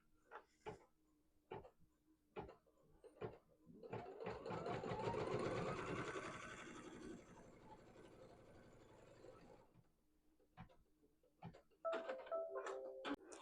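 An embroidery machine runs a tack-down stitch line on quilt fabric: a rapid, steady mechanical whir of stitching for several seconds, framed by quieter clicks and taps before and after, fairly soft and close.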